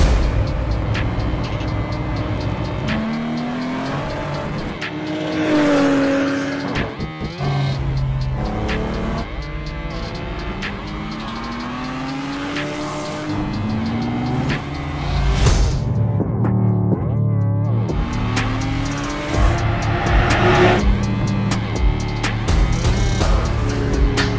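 Several cars, among them a Toyota GT86, lap a race track one after another, engines rising and falling in pitch as they accelerate and pass, with steady loud motor drone and occasional tire noise throughout.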